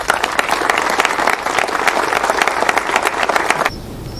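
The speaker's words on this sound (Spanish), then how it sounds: "se merecen un gran aplauso" Warm, sustained applause from a crowd at a farewell ceremony for a former Radical mayor, dense rhythmic clapping carrying for several seconds before tapering off, with no talk over it.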